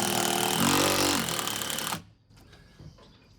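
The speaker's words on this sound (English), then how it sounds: "I'm just going to put 4 or 5 of these larger screws into this" A power driver sinks a large screw into a wooden upright beam in a garage workshop, with metal behind the wood. A loud, close whirring runs for about two seconds, then cuts off, leaving faint shuffling.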